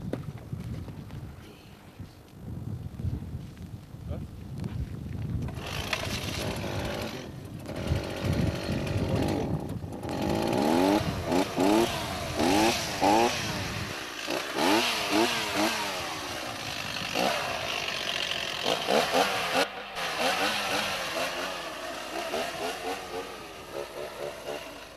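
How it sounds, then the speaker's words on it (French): A chainsaw cuts through thick, cold-hardened compact ice at a ski resort to open a hole for ice diving, starting with low rumbling then revving into a loud, sustained whine with rising and falling pitch surges. "la tronçonneuse est quand même indispensable car le froid a rendu cette glace particulièrement compacte et résistante"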